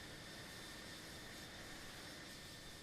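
Engines of an Antonov An-225 Mriya cruising at altitude in Microsoft Flight Simulator 2020 give a steady, even jet roar with a faint high whine above it. The sound is continuous and unbroken, with no talking.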